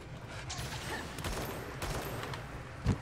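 Rapid gunfire from the action video game God Eater sounds as a quick run of faint crackling shots, with a sharper, louder burst near the end.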